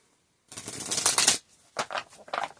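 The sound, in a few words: shuffling playing cards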